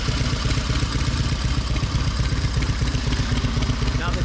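A 1929 Harley-Davidson JDH high-performance motorcycle engine runs steadily, a loud close rapid mechanical throb with clattering valve-train noise and no talk.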